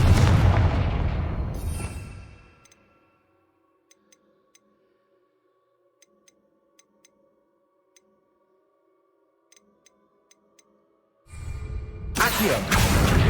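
A Confringo fire spell in Hogwarts Legacy bursts in a loud explosive blast that fades over a couple of seconds, followed by near silence with faint ticks, then another roaring burst.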